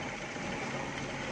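A car engine idles steadily just after a cold start, a continuous near rumble with no breaks and no one talking.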